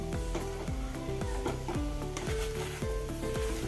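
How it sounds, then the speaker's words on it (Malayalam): Broccoli and egg stir-fry being mixed in a pan, with a steady sizzle and repeated rhythmic scraping strokes, close up, along with a tonal background pattern running throughout. "നല്ലപോലെ ഒന്ന് മിക്സ് ചെയ്യുക"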